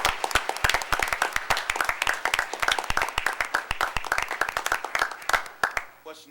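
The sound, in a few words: round of applause at a council meeting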